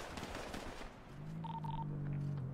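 Rapid bursts of video game gunfire crackle through a noisy mix, with a steady electronic tone and beeps rising underneath toward the end.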